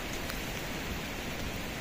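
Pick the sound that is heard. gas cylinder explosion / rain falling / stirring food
rain falling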